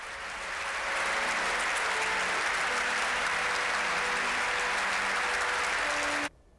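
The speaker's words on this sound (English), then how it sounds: "the crowd broke into a spontaneous standing ovation" A large congregation gives a standing ovation at a mayor's funeral service in a temple, a dense, even wash of clapping that swells in, holds steady and then cuts off abruptly.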